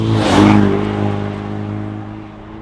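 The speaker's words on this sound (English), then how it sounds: "you can roll off from the light with just a little bit of acceleration there and still get a nice tone" A 2019-2023 Ford Ranger with an AWE Tuning 0FG dual-exit cat-back crawler exhaust pulls away gently, a deep rumbling tone rising briefly then settling into a steady drone, loud and close.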